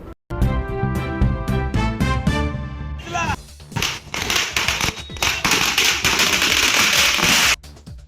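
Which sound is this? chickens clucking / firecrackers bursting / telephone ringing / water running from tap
firecrackers bursting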